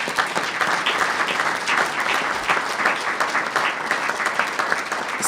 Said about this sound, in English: I do want to ask for another round of applause for everybody standing here